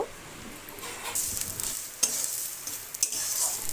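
Mashed bottle gourd leaves are mixed with crushed fried dried chillies in a pan, giving a close, steady stirring and scraping with a light sizzle and a few sharp clicks of the utensil.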